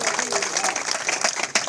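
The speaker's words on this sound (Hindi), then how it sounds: "जरा तालियां बजाकर मुबारकबाद दें" Dense applause from a gathering of a local community group honoring a newly elected waqf board member, steady clapping filling the whole moment at close range with no break.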